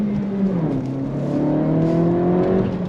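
A 2025 Acura Integra A-Spec sedan accelerates hard under throttle, its engine note climbing steadily in pitch through a gear change, loud and continuous as heard from inside the car.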